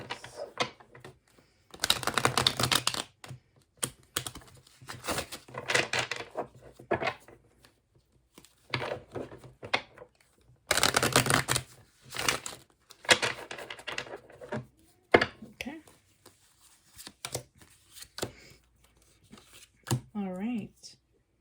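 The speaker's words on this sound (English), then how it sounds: "shuffling the deck." Tarot cards are shuffled in repeated bursts of riffling and rubbing, close and fairly loud, with a voice speaking between the shuffles.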